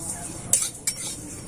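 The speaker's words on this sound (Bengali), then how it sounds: "শুকনো খোলায় নেড়ে চেড়ে ভেজে নিচ্ছি" Whole spices being stirred dry in a kadai, with two sharp metal scrapes of the spoon against the pan over a faint, steady dry rustle.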